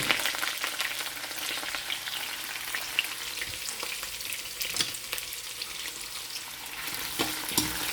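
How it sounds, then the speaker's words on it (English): Garlic sautéing in a hot pan makes a continuous crackling sizzle, with occasional spoon scrapes and taps against the pan. "I am going to add this or saute this garlic"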